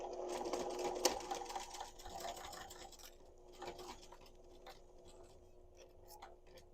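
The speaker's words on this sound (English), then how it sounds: "take this to your sewing machine and you're going to sew around this edge" A sewing machine stitches around the edge of a round fabric potholder in a quick, even rattle, close and fairly quiet, pausing briefly before resuming at a slower pace.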